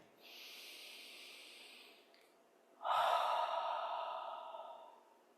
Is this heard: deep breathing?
yes